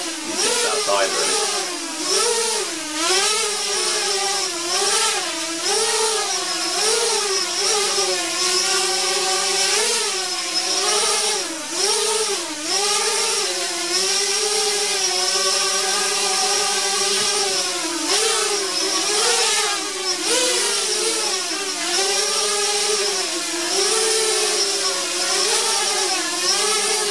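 A Mini H Mark 3 quadcopter drone flies outdoors at high throttle, its motors giving a loud, continuous high-pitched whine that swoops up and down in pitch steadily through the whole stretch.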